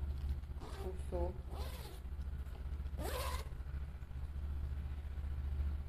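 Zipper on a sewn tote bag, run in several short rasping pulls at uneven intervals, close up over a constant low machine-like drone.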